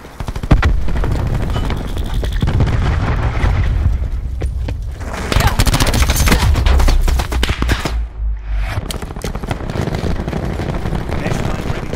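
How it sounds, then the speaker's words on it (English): Cluster grenade blasts in Call of Duty Black Ops 4 on the Gridlock map, a dense run of booming explosions and crackling gunfire filling the scene, with game voice announcements mixed in. "Throwing cluster grenade."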